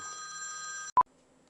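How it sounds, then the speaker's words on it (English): A telephone rings in a steady electronic tone for just under a second, then a single sharp beep cuts it off, leaving a faint low hum behind. "is it really that hard to make a video without the phone ringing?"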